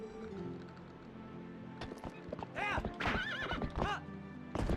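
A horse gallops with quick clip-clop hoofbeats while loud, wavering whinnies break out in the second half, close and clear above a low steady background.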